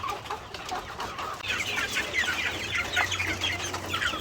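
Pullet hens cluck in a steady, overlapping chatter close by on a farm, with a low hum running underneath throughout.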